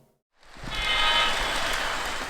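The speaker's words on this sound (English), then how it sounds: "And now the train is running." A Lionel ready-to-run model train set starts up and runs on its track, a rising mechanical rumble and whir with a faint whistle tone that swells after a brief silence and holds steady nearby.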